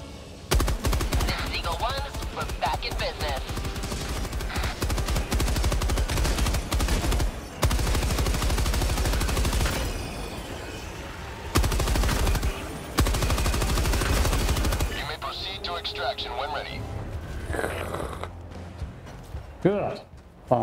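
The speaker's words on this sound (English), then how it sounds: "Some good machine gun kills." Machine gun fire in Helldivers 2 rattles in long, rapid sustained bursts, loud and close, broken by short pauses and reloads, with a player talking over the gunfire.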